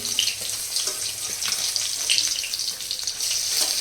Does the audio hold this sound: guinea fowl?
no